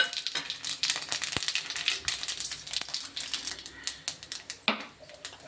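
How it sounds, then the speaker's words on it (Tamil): Chana dal, urad dal, mustard seeds and two chilies sputter in hot oil for a tempering, giving a quiet, irregular run of sharp crackles and pops close by with no talking. "இதுக்கு ஒரு சின்னதாக ஒரு தாளிப்பு கொடுத்துடலாம்"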